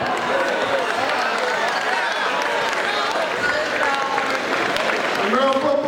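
A school assembly audience claps in steady, dense applause that fills the room throughout, a broad wash of hands with a crowd murmur beneath it and voices mixed in.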